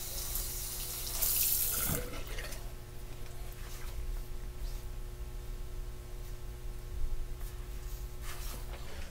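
Steady running water from a tap, a continuous splashing hiss that holds close and even throughout, with a brief brighter gush near the start.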